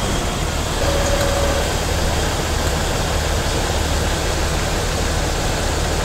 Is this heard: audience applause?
no